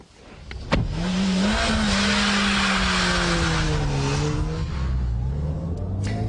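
A Ford Puma small front-wheel-drive family coupe drives hard, its engine droning and rising steadily in pitch as it accelerates after a sharp clunk, loud and close with road and wind noise, no talking.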